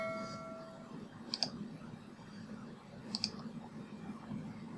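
Two faint, isolated computer mouse clicks, spaced about two seconds apart, over low steady room hum with no talking.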